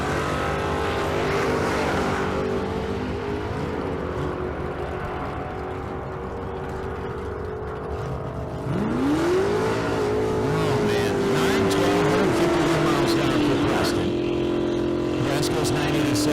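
Drag racing cars at a street car meet in Las Vegas, a 2006 Dodge Charger with a 392 and a Fox-body Mustang, roar and rev, their engine tones rising as they launch, with an announcer talking over them.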